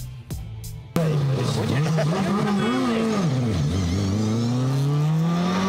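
Lada race car engine on track, loud and close, roaring as it revs and sweeps up and down through the gears after a brief clatter at the start, with popping on lift-off.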